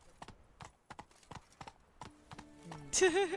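Horse hooves clip-clop at a walking pace in The Witcher 3: Blood and Wine, a string of evenly spaced, crisp, close hoof strikes, followed at the end by a voice speaking.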